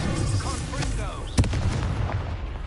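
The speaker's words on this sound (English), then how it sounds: "Confringo!" A Confringo blasting curse detonates in the Hogwarts Legacy video game, one sharp burst near the middle over a dense, rumbling game soundscape, with a voice calling out before it.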